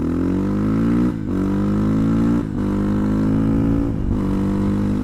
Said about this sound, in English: Dang, this bike sounds good.